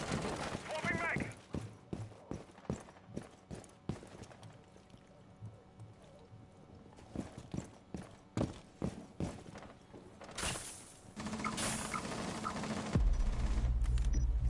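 Gunfire in Rainbow Six Siege ranked play, sharp shots cracking in quick irregular bursts from behind, mixed with footsteps and movement noise; a voice talks intermittently over the action.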